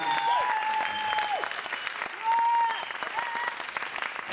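A talent competition audience claps loudly for a band that has just played a song, with steady applause, a few whistles and cheers, and a swell partway through.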